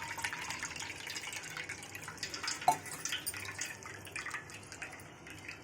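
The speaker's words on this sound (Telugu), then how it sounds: "ఇలా చల్లనీళ్ళు పోసుకొని ఒకసారి కడుక్కోవాలి." Cold water is poured over homemade cheese to wash it, a faint, steady trickling and splashing close by with one small splash partway through, and no one speaks.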